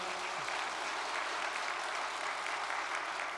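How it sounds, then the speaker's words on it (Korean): A congregation at a church sermon breaks into steady, dense applause, a broad wash of clapping that holds at even loudness throughout without any voices over it. "우리의 천지인 참 부모님께 우리의 결의의 박수를 올리면서"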